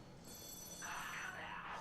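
An in-game telephone rings in a horror game, a faint electronic trill rising partway through over a steady background hum.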